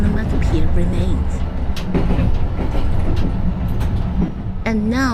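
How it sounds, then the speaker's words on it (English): A Tokyo tram rumbles along with steady rolling noise and light clatter, and a rising whine sounds near the end. "And now the tram I'm riding is making the very sound"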